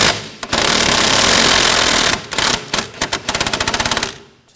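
A power tool with a 15mm socket removes a rear upper control arm bolt on a 2013-2019 Ford Escape: a loud, sustained buzzing whir, then a rapid hammering rattle of impacts as the bolt breaks free, close and harsh.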